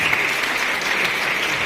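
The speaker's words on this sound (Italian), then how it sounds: "accolto dal vostro applauso" An audience claps steadily, a dense sustained applause that fills the whole stretch, heard at an Italian event where a singer performs a Sicilian adaptation of a song.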